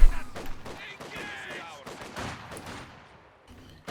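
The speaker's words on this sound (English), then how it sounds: "sounds like a Maxim for Bradare" Maxim machine gun fire in Company of Heroes 2, a rapid, dense rattle of shots that starts loud and thins out, with other battlefield noise and some talk mixed in.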